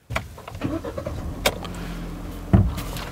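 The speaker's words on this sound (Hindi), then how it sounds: "तो अब मैं इस गाड़ी को जो है ऑन कर लेता हूँ" A Kia Sonet HTK+ is switched on, a few clicks and a brief starter whir followed by a low engine hum and a sharp thump near the end, heard up close inside the car.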